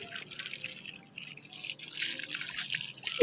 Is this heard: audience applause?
no